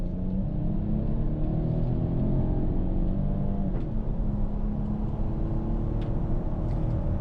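A 2020 Ford twin-turbo ST SUV engine rumbles steadily and loudly, building as it accelerates through the gears, with a low, continuous drone and no talking.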